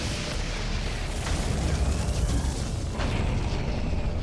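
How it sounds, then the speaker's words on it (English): Grenade explosions in the video game Doom 3 BFG Edition, a dense rumbling roar of blasts with a couple of sharper bursts near the middle and end, loud and continuous with no talk. "I like just using grenades on them."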